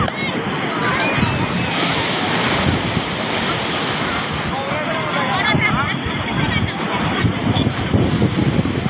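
Sea waves break and wash up on Puri beach in a loud, continuous roar of surf with strong wind buffeting the microphone, while people's voices can be heard faintly in the background.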